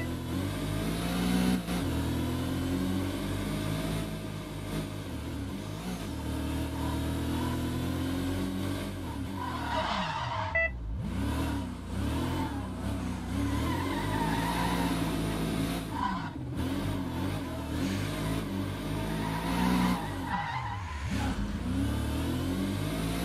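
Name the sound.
Mercedes W 196 racing car engine in video game World Racing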